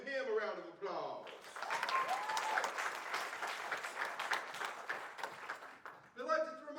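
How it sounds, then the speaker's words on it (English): A theater audience gives a round of applause for the playwright before a stage show. Brief speech comes first, then a dense burst of clapping holds for several seconds, and talking returns at the end. "Please also give him a round of applause."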